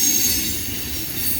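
A CSX mixed freight train led by two EMD locomotives passing at night, heard as a steady close rumble of rolling wheels and cars with a faint high squeal.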